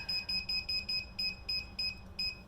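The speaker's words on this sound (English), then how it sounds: "set the timer for 10 minutes" Kitchen timer being set for a bread bake, giving a string of short high electronic beeps in a quick uneven rhythm, about a dozen chirps, close and clear over low room hum.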